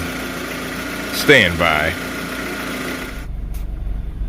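A 2007 Scion tC engine idles steadily with a low hum beneath a brief spoken phrase after a water pump replacement, then the sound drops to a quieter rumble near the end.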